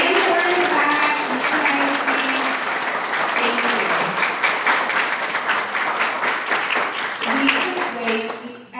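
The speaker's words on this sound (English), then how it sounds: "I would love for you to stand so we can give you an applause and thank you personally for your work." An audience claps steadily in a hall for district leaders at a check presentation, sustained applause filling the room with a few voices and cheers mixed in, swelling slightly near the end.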